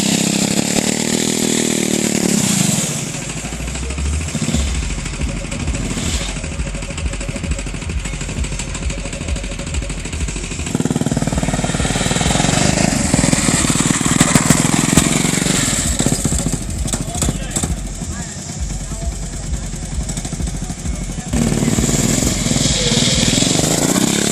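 A small-engine drift trike revs hard while sliding at a 2015 motor show in Hatyai, its buzzy, rasping engine rising and falling continuously, loud and close, with brief throttle lifts between sustained high-rev bursts.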